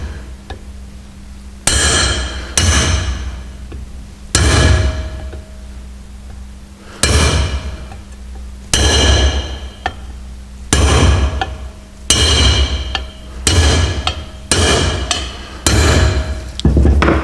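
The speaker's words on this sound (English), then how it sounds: "we're going to drive them in using a nice lump hammer and a good sized drift" Heavy lump hammer blows on a metal drift, driving wheel studs into a car brake hub, ring out in about a dozen sharp clanging strikes spaced unevenly, each with a bright ringing decay, close and loud.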